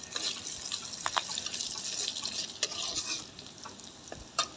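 Onions frying in a pan, browning before radish greens go in, a soft steady hiss with occasional clicks of a spoon and a sharper knock at the end, quiet and close, no speech.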